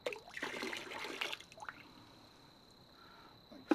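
Liquid poured into a vessel while making redbud wine vinegar: a short close pour with bubbling trickle in the first half, then a quieter tail with a faint drip at the end.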